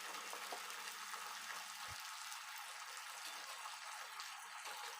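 Turkey berries (sundakkai) fry gently in oil over a low flame, a soft continuous sizzling hiss with a light bump partway through, quiet and without voices.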